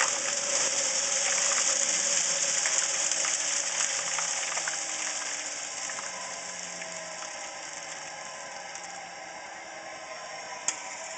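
A dust collector blower, a silo-type fan, winding down: steady broadband whoosh and rumble that gradually fades in loudness over about eleven seconds, with a small click near the end.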